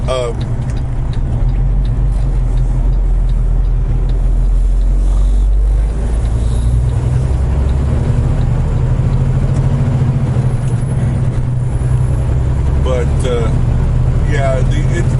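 Car driving along a desert road from Newberry Springs toward Coachella, a loud steady engine and road rumble heard from inside the vehicle, with a person talking over it throughout.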